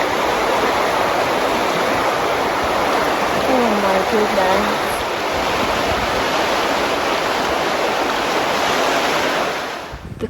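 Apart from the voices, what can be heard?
flooded river rushing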